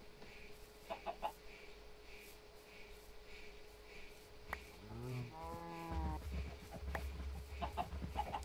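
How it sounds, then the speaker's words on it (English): Livestock sounds in Minecraft, with faint clucks from chickens, then a cow's low moo and further animal calls, all over a quiet ambient hum. "I can kill all these chickens"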